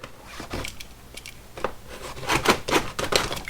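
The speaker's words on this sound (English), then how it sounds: "Let's cut right down in there." A blade cutting into the padding of a mower seat, heard close as a series of irregular crunching, snipping and tearing sounds that grow louder toward the end.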